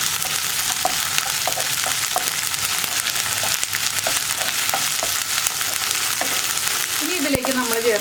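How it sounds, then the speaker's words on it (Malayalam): Ginger garlic paste and onions frying in a pan for masala bread, stirred steadily: a continuous loud sizzle with scattered scraping clicks of the spoon throughout. "ഈ ജിഞ്ചർ ഗാർലിക് പേസ്റ്റിൻ്റെ റോ ടേസ്റ്റ് മാറി വരുന്നത് വരെ ഒന്ന് ഇളക്കി കൊടുക്കുക."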